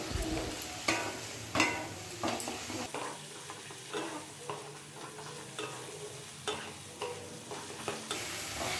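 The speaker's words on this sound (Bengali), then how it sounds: "এবার কচু শাকগুলোকে মশলার সাথে আর চিংড়ি মাছের সাথে খুব ভালো করে মিক্স করে নিচ্ছি" Boiled taro greens are stirred into spices and prawns in a pan, with a soft background sizzle and repeated rhythmic scraping and thumping of the spoon, close and moderately quiet, with no talking.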